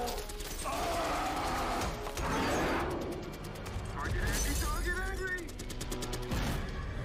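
Gunfire and explosive action from The Avengers film, with dense bursts of shots, crashes and mechanical clatter mixed with score and dialogue, loud and continuous.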